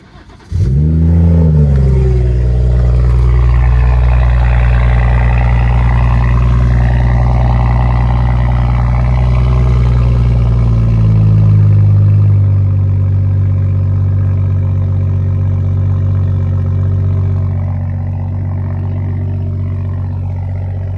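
A BMW M240i with the B58 straight-six fires up with a loud cranking burst and rev flare, then settles into a steady, close cold-start idle that slowly drops in pitch, with no talk.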